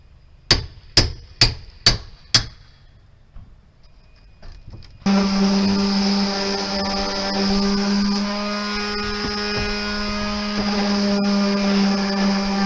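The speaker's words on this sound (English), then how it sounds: "I've been sanding away here, getting down to the bare wood that doesn't have any damage" Five sharp knocks ring out, then a power sander starts up on old wood in a 1905 cottage and runs with a steady, loud motorized whine to the end.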